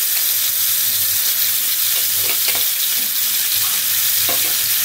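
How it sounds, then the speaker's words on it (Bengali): Onion paste with black cumin fries in oil, making a loud, close, steady hissing sizzle broken by faint stirring scrapes, without any speech. "পেঁয়াজটা যতক্ষণ না কাঁচা গন্ধ যায় ততক্ষণ আমি পেঁয়াজটাকে এইভাবে ভেজে যাব।"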